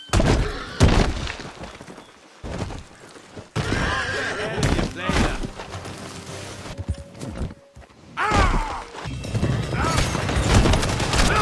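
Hooves clip-clop at a gallop and a horse whinnies in a video game, loud and close, mixed with crashes, game music and voices talking over the action.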